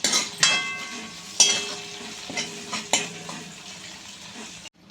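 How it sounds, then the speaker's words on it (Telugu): Green chillies and curry leaves fry in a pan for chicken liver fry, a low sizzle under repeated metallic clinks and scrapes of a spoon stirring against the pan, close up, ending abruptly. "నాలుగు పచ్చిమిరపకాయలు కొంచెం అంత కరివేపాకు వేసుకొని బాగా కలుపుకోవాలి"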